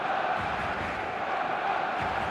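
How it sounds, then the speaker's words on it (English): Stadium crowd in the eFootball 2026 video game gives off a steady, expectant buzz, a continuous blended roar of many voices with no distinct chants or peaks. "There's a real expectant buzz in the stadium"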